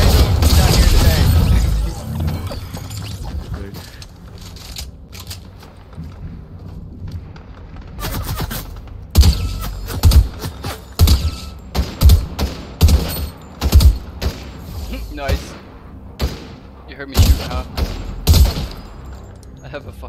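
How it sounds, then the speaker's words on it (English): Rapid machine gun bursts and other gunfire ring out during a Fortnite match, with dense volleys of sharp repeated shots that grow louder and more clustered in the second half, mixed with game sounds and occasional talk. "Machine gun long range. Someone's literally shooting me this whole time."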